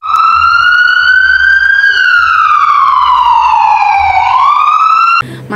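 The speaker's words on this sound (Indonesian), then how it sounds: "lihat ada ambulan" Loud, continuous ambulance siren wailing close by, pitch slowly rising and falling through long sweeps before cutting off near the end, with a faint low engine rumble underneath.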